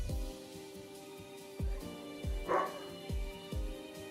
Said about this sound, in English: dog barks again.